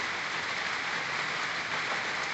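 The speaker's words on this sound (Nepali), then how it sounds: "यसपालि दसैँमा मुसलधारै वर्षा काठमाडौँमा।" Heavy downpour in Kathmandu during Dasain, a dense, steady hiss of rain falling continuously and evenly, close and fairly loud, with no voices.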